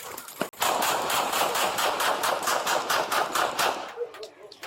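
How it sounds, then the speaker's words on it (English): A rapid volley of gunshots rings out during a police encounter, a dozen or more sharp cracks in quick succession, loud and close, with shouting mixed in. "shots fired!"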